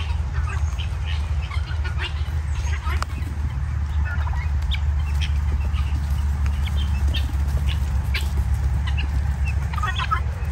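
Baby chickens chirping and clucking, scattered high peeps over a steady low background hum, with occasional brief sounds of people nearby.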